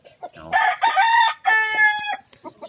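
A large rooster crows loudly and close by, a full drawn-out crow broken into two long strained phrases, with a few softer clucks at the start and end.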